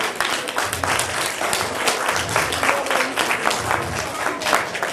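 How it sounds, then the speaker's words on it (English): An audience applauds musicians at a seasonal concert, a loud, steady wash of many hands clapping, with scattered voices mixed in throughout. "Let's give musicians another round of applause."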